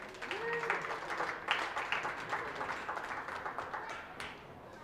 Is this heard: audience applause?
yes